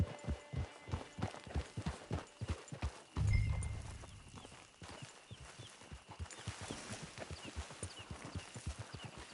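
Rapid rhythmic hoofbeats of a galloping horse in the video game Red Dead Redemption 2 Online, close and steady, with a brief louder thump and snort midway and faint ambient sound throughout.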